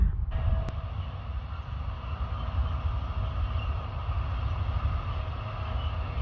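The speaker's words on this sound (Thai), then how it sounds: "รถไฟส่งสินค้าประเทศเยอรมัน" A steady, rumbling German freight train carrying timber rolls past nearby, a continuous low roar with metallic clatter throughout and no voices.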